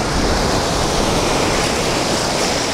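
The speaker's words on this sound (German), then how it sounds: "wie das bisschen Wasser schon ganz schön doll wieder zurückkommt" Surf at a beach on Australia's Sunshine Coast, loud and constant, with water rushing back out to sea in a steady broadband roar and no voices.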